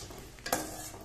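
Peanuts and cashews frying in a pan for a mint pulao, a brief soft sizzle with a quick stir-scrape in the middle, close and quiet.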